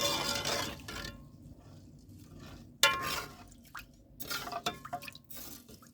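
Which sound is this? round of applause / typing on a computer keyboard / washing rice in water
washing rice in water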